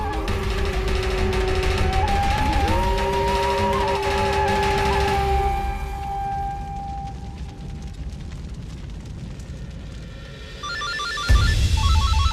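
A telephone rings after dialing, its electronic tone entering near the end over a loud dramatic music bed that fades partway through.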